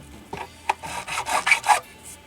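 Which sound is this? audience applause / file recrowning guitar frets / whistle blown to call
file recrowning guitar frets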